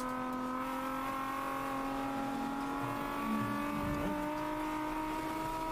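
Distant BMW race cars at a July race give a continuous far-off engine drone with steady harmonic tones and a slight swell partway through, with no voices.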